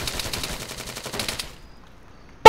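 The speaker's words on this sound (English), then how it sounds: "he unloads 50 shots into my face" Rapid heavy machine gun fire in a combat video game, a dense fast burst of shots lasting about a second and a half, then near silence before a sudden loud blast at the end.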